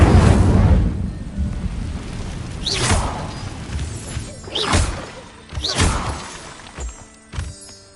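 Incendio fire spells cast in Hogwarts Legacy burst out in several loud whooshing, flaring blasts spaced a second or two apart, each swelling and then fading, over a low rumbling backdrop with no talking.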